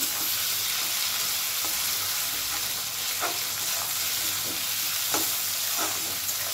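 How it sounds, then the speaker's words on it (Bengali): Grated ginger and tomato fry in a pan, a continuous hiss of sizzling broken by a few scraping strokes of a spoon stirring, with no one talking. "ভালো করে একটুখানি নাড়াচাড়া করে নেব।"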